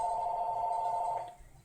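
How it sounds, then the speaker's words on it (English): A telephone rings during a scrapbooking session, one sustained electronic ring tone lasting just over a second before cutting off and leaving quiet room noise. "Sorry about the phone."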